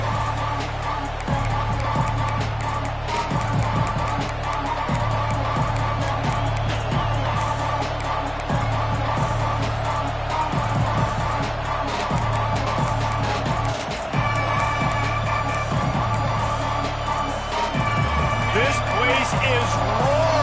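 A loud stadium crowd roars at a night college football game between Texas and Ohio State, a steady dense wash of cheering heard under a commentator's voice throughout.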